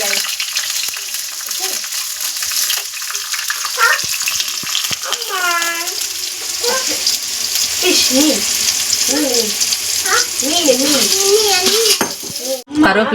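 Tomatoes sautéing in a pan on a home stove, a steady loud sizzle running throughout, with a clatter near the end while a voice talks over it.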